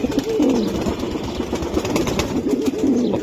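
Pigeons of an old breed coo in low, rolling, repeated calls close by, several voices overlapping in a continuous throaty burble with no talk.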